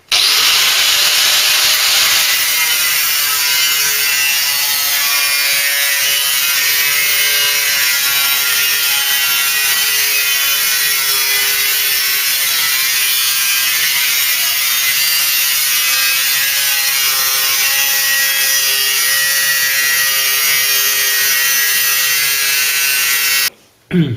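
Steel angle for a Ford Cortina restoration is cut with a power tool, giving a loud, continuous abrasive whine that runs almost unbroken for the whole stretch before it stops abruptly at the end.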